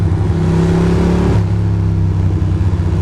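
A Ducati Monster motorcycle rolls along a wet road at a relaxed cruise. Its engine holds a steady mid-pitched drone that drops in pitch partway through, over continuous road and wind rush.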